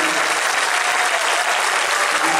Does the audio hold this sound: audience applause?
yes